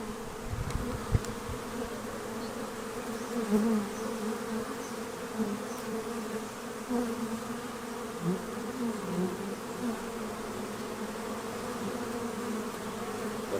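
Honeybees buzz steadily at a hive during a trap-out, a dense, continuous drone of many wings that stays close and even throughout with no voices.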